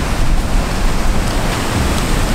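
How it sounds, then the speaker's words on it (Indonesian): Steady broadband wash of surf on a beach in Sumba, waves rolling and breaking continuously close by, with no voices. "Lihat ada ombak yang pecah di mana."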